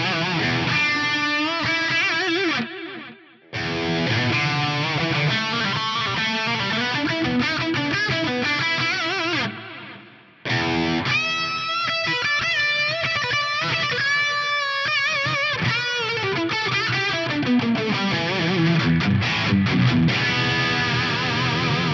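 Electric guitar played through a Fractal effects device with chorus, delay and reverb, sustained shimmering chords and melodic lines with brief gaps, washing into long ambient tails.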